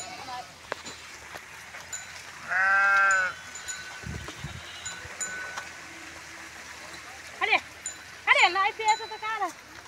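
Goats bleating in a farm field, one loud nearby bleat followed later by several wavering calls, with a few thumps and people talking in the background.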